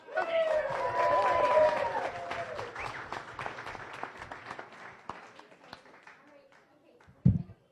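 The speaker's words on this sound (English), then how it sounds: "everybody give her a big round of applause" Members at a Rotary Club weekly meeting in Las Vegas applaud, with voices and cheers riding over the clapping at first before it thins out into scattered claps and quieter chatter.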